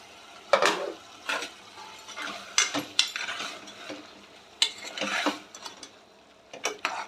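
A spoon scrapes and stirs chicken gizzards in a cooking pan, with irregular clattering strokes against the metal and no one speaking.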